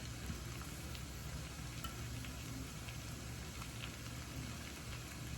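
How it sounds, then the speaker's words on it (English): Shrimp sizzling in a skillet for garlic butter shrimp scampi, a dense, even, fairly faint frying hiss that stays constant throughout. "I'm just gonna add the shrimp directly to the skillet"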